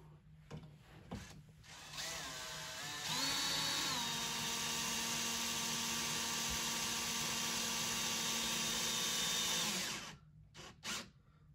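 A power drill drives the clamps of a KEF CI3160RL in-wall speaker tight against drywall, a loud whirring whine that steps down in pitch as it slows and then stops, with short handling knocks before and after.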